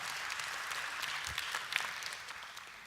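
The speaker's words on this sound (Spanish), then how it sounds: "si va a aplaudir, aplauda bien" A church congregation claps steadily, a dense, moderately loud patter of many hands that stays even throughout with a few sharper individual claps poking through.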